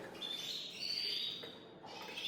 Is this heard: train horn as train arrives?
no